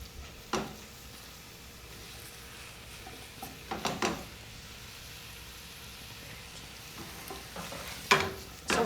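A spoon stirs and breaks up keema mince frying in masala sauce in a pan. A soft continuous sizzle runs underneath, with scattered spoon scrapes and taps on the pan, heard close.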